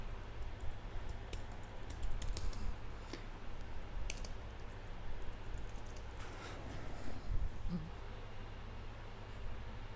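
Close, rapid typing on a computer keyboard, a steady patter of key clicks with a few louder taps, running on without pause over a low background hum.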